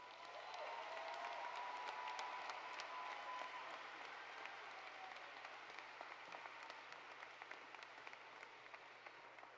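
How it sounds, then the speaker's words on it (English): Steady crowd applause at a high school graduation ceremony, a continuous wash of clapping heard from a distance, fairly faint and even throughout with no speech. "Keep the applause going"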